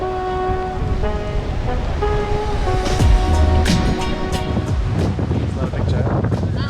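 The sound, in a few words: wind and waves at the sea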